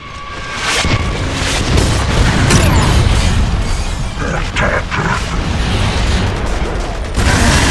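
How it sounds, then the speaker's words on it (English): A mortar explosion in Gears of War: Judgment lands as a loud, close boom, then a thick rumbling roar of debris and battle noise that keeps going almost without a break. "Mortar!"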